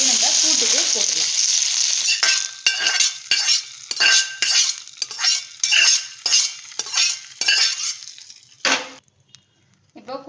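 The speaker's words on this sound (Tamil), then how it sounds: "இப்போ கூட்டுக்கு தாளிப்பு போட்டாச்சு." Tempering spices and curry leaves crackle and sizzle in hot oil for kootu, with a burst of loud frying at first, then repeated rhythmic scraping and stirring strokes in the pan, ending in a few sparse clatters and near silence.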